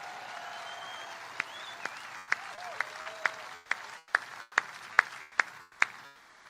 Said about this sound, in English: Let's give a round of applause to David.